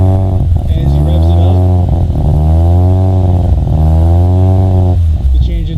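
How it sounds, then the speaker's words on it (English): A Mazda RX7 FC3S rotary engine fitted with a custom exhaust revs steadily under load, its loud, rising and falling harmonic drone sustained for several seconds before easing off, heard up close with no talking. "And as he revs"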